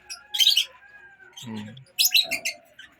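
Wild-type green parrots in a home aviary, a few bright chirps and short calls with a low coo-like note between them, close and clear, with no talking.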